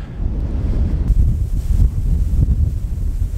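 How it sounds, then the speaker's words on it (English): Strong, bitterly cold wind buffets the microphone in open mountain country, a loud continuous low roar that rises and falls in gusts for the whole stretch with no talking. "Oh man, this is absolutely relentless, this wind, and it is bitterly cold."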